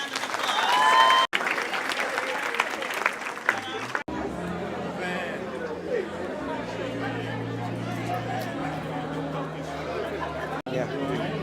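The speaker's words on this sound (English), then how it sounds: "Let's give every one of our graduates a round of applause." Graduates at a 2018 Omnitech graduation ceremony are given a round of applause: loud, sustained clapping from the audience with crowd chatter mixed in, a brief pause partway through, then continuing as a steady wash of claps and voices.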